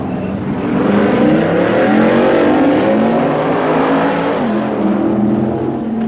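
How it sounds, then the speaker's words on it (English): Two 1964 drag cars, the Candy Stripe Ram Chargers Dodge and a Plymouth, roar off the line, their engines climbing in pitch through gears in a loud, sustained acceleration that holds for several seconds. "The Candy Stripe Ram Chargers Dodge, driven by Jim Thornton, takes on Paul Russo's Plymouth."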